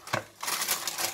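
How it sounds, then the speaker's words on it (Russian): A metal baking tray for roasting chicken with beets is lifted and handled in a home kitchen: one sharp clank, a short pause, then a run of light metallic rattles and scrapes close by. "Теперь беру я противень."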